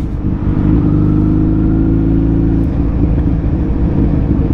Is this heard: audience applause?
no